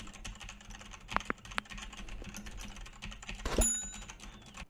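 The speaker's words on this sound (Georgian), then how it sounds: "ესეც მეორე კლავიატურა." A second computer keyboard rattles out close, continuous typing clicks, with one heavier clack near the end and no talking.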